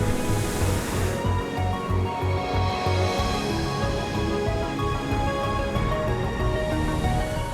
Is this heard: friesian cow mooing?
no